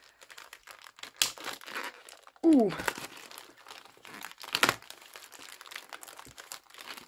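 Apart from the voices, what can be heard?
strong packaging being crinkled and torn open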